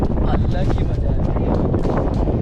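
Cool wind blows at a hilltop viewpoint above Yarada Beach in Visakhapatnam, buffeting the microphone with a loud, constant low rumble while a person talks.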